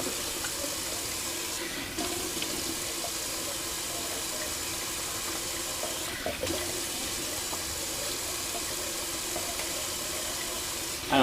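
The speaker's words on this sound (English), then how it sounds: "I'm pretty much just going to do a quick little cold rinse" Tap water runs steadily for a quick cold face rinse during a wet shave with bay rum aftershave, a continuous close hiss with no talking.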